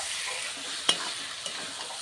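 Chicken with fried cauliflower stir-frying in a pan for a village-style jhal curry, giving a steady low sizzle with one sharp clack of a spatula and a fainter scrape later, no talking.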